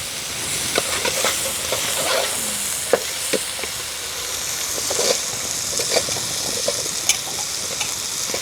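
Potato pieces frying in spicy masala paste in a pan, a steady hissing sizzle with occasional soft clinks and scrapes of stirring, close and continuous without talk.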